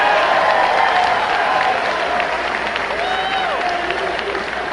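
Wrestling crowd of over 500 fans cheering and applauding, a dense, steady wash of clapping and shouts filling the arena, loud and continuous, with a few whistles rising above.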